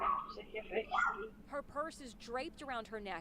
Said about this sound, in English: you can hear her dog barking inside her house